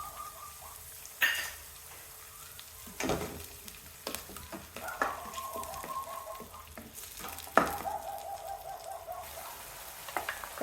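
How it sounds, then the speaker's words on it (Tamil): Chicken changezi masala sizzles with tomato paste in a pan, stirred with repeated scraping strokes and clinks of a spoon over a steady low frying hiss. "நல்லா கலந்து விட்டுக்கலாங்க."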